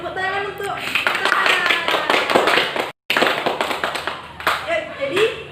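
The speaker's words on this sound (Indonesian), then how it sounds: "tepuk tangan untuk kita" A primary school class clapping hands, a quick burst of rhythmic claps from many children close by, mixed with children's voices and brief noisy chatter.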